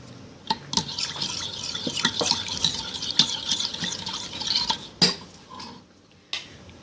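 A spoon stirs chutney into a chicken pasta salad in a bowl, giving a string of light clinks and scrapes, with a few sharper knocks against the dish, close and fairly quiet.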